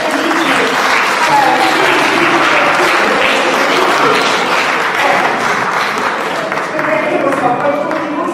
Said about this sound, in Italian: Questi applausi però, mi raccomando, un pochino più di...